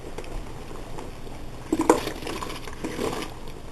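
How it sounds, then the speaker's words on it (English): Soft splashes and clinks as broccoli pieces drop into a pot of bubbling boiling water, a few quick plops near the middle over a steady low hiss. "Now I'm going to put my vegetables in."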